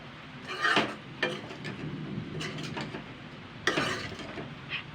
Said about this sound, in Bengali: এইগুলো দিয়ে আমি হালকা নেড়ে চেড়ে নেব